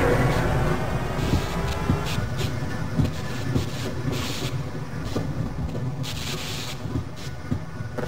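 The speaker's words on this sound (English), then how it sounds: "Move forward and backward to increase or decrease the speed of the train." Train riding along rails in Half-Life on PS2, a steady dense rumble with faint rhythmic clatter that holds at an even loudness throughout.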